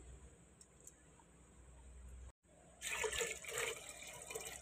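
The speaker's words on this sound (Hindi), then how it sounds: "मेरे चार से पाँच गिलास पानी इसमें डाल दिया" Water being poured from a glass into a cooking pot of whole spices for beef biryani, a near splashing gurgle starting after a quiet moment with faint background hum.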